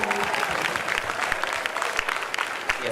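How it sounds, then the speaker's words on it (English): Audience at a youth dialogue event in Kochi giving a round of applause, a brief steady burst of many hands clapping, moderately loud throughout. "we need a louder round of applause both for sir and for all of you here"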